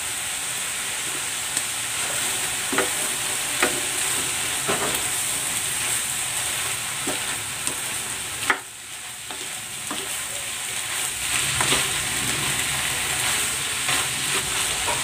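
Chicken sisig with green chilies and bird's-eye chilies sizzles in a hot pan, a continuous bright frying hiss broken by periodic scrapes and clinks of a spatula stirring, all close and fairly loud.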